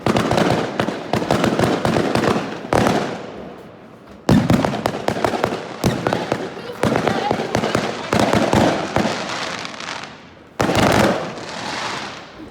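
Bonfire night fireworks bursting in rapid, crackling volleys of loud pops and bangs seen from a window, with short pauses between barrages.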